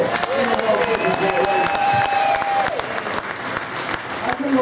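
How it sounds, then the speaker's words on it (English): Crowd applause at a motorcycle racing paddock show at Donington during World Supersport rider interviews, loud sustained clapping and some cheering while a presenter's amplified voice carries over it. "Keep that applause going again, because what a performance."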